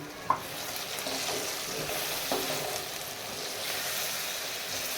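Ground spices with cumin, black pepper and Kashmiri red chilli roast in ghee for a daal mash tarka, giving a steady close sizzle with a few soft stirring knocks and no talk.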